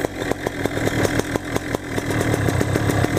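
A Black Hawk 125 paramotor engine idles close by with a steady, buzzing two-stroke putter and a regular pulsing rhythm, and its speed wavers slightly as spray is applied around possible air leaks.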